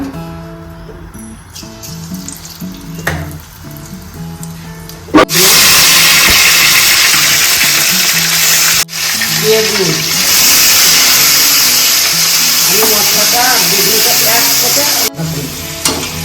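Cumin seeds hit hot white oil in a kadai and burst into a loud, hissing sizzle that holds for several seconds, broken by a couple of sharp clatters and stirring, after a quieter stretch of kitchen handling and speech.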